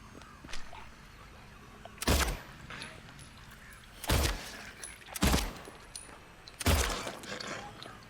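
Four sharp gunshots in Silent Hill 2, spaced a second or two apart against a quiet, eerie background, each a loud close crack with a brief ringing tail.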